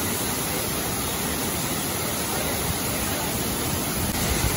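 Thirparappu Falls, a waterfall near Kanniyakumari, roars as a steady, loud, continuous rush of falling water with no pauses and no voices.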